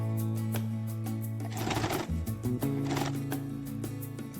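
A home sewing machine stitches double-folded piping onto a fabric bag in two short whirring bursts, with a quieter mechanical hum before and after.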